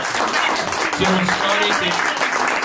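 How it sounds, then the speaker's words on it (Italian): Audience applause at a talk about the Veggia air-raid shelter, a dense patter of clapping running throughout while someone speaks over it in Italian. "facciamo un applauso"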